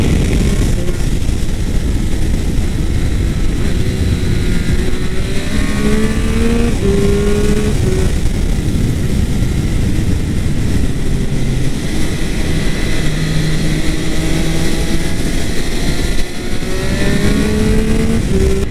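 A Triumph Speed Triple 1200 RS motorcycle engine runs loud and close, revving up and down in rising and falling sweeps over a continuous dense roar, with no voices.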